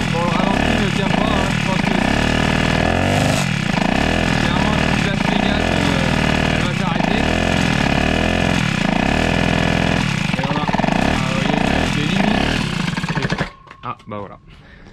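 A Peugeot 103 moped with a 70cc Gilardoni kit runs loudly and unevenly, its idle not holding, rising and falling in pitch as it revs, then cuts out abruptly near the end.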